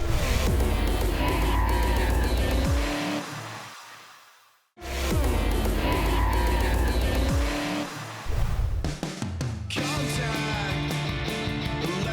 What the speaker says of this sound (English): here we are in the 2010 Finke Desert Race, out giving it a run to see how it'll go